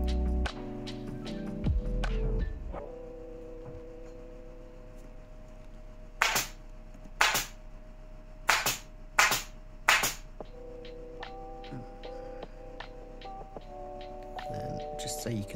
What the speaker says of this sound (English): literally just staple it on over the top of the fabric from the inside